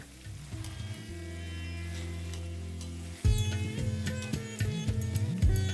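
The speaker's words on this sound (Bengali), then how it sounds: "আর বড়িটাকে ভাজার পরে আমি এখানে বেগুনটাকে ভেজে নেব।" Slices of eggplant frying in hot oil in a Bengali kitchen while making dudh shukto, a steady crackling sizzle that jumps louder and busier partway through as more pieces go into the pan.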